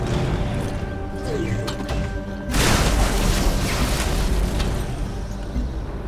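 Weapon fire and an explosion from the sci-fi strategy game Civilization Beyond Earth, a squad opening fire on enemy units: a dense, loud burst of crashing blasts erupts midway over a steady game soundscape and lingers as a rumbling roar.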